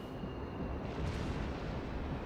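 A battleship's main guns boom in World of Warships, an IJN Kongo firing; a deep, rumbling blast fills the clip with a heavy low roar that sustains and fades, no voices present.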